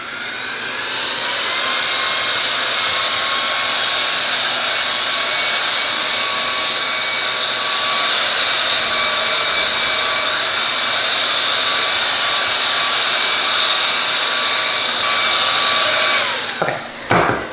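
A hair dryer blows steadily and loudly at close range for a long stretch as hair is dried, a constant whooshing roar that cuts off near the end.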